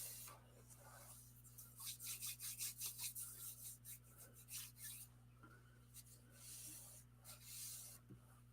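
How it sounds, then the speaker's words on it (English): A nail file rasps along the edges of paper in a run of quick, close strokes, loudest in the middle, then slower scattered rubs over a steady low hum in a quiet room. "Yeah, this actually was a nail file."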